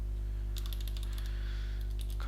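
A short run of light keyboard taps sounds over a loud, steady electrical hum, with the keystrokes clustered into a couple of quick bursts.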